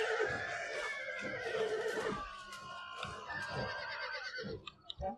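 Horses neighing and whinnying over a Total War: Attila battle, with shrill cries rising above a dense din of fighting and hoofbeats that thins out near the end.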